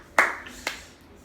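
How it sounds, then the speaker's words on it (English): Two sharp hand claps, close and distinct, with the first louder and the second following about half a second later in a quiet indoor room. "Give her a round of applause, everyone."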